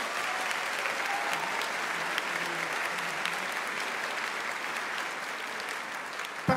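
A room full of people claps steadily and warmly for the jury president of a virtual fashion show, an even wash of applause that continues throughout with a louder knock right at the end.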